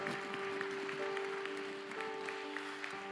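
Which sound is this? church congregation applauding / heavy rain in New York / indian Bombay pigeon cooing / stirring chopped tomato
church congregation applauding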